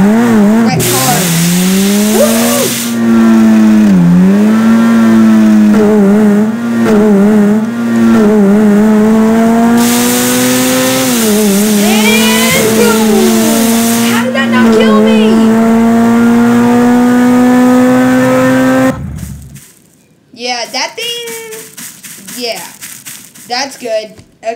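Garry's Mod video game cars drive and wreck, a loud, close engine whine rising and falling in pitch with revving for about twenty seconds, then cutting out to scattered squeals and shorter engine bursts.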